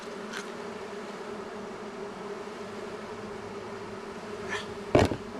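Honeybees hum in a steady, close drone around an open queen-rearing cell builder hive, with a few louder buzzes as single bees fly past the microphone.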